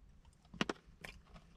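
Two crisp crunches, about half a second apart, as teeth bite into a Raaka green tea crunch unroasted dark chocolate bar, close and fairly quiet with no talking.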